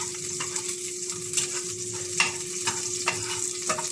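Garlic and onion frying steadily in a hot pan to toast golden brown for a vegetable dish with liver and gizzard, with a continuous close sizzle and occasional stirring scrapes.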